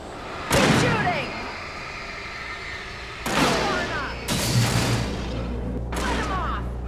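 Gunfire in the horror game Alan Wake Remastered: four loud, close bursts of shots, each with a sharp crack and a lingering rumbling tail, spaced a second or more apart over low droning ambience.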